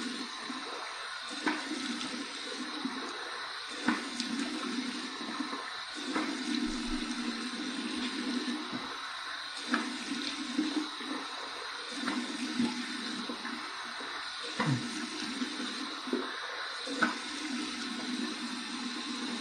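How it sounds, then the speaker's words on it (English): Tap water runs steadily into a sink for a warm rinse after shaving, a close, continuous hiss and splash with small shifts as hands move through the stream, with no talk. "Hang on, warm water rinse."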